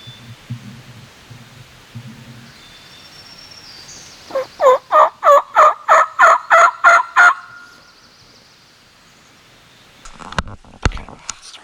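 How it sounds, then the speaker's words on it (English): A wild turkey gobbler gobbles from far off during a spring turkey hunt, one rapid rattling burst of about nine quick pulses, faint and distant against quiet woods, followed by a few soft nearby knocks. "Got a gobbler. It's far off though, but we can hear him."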